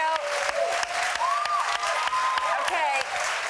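A studio audience on a daytime talk show applauds in a steady, sustained wash of clapping, while a tonal melodic line runs over it.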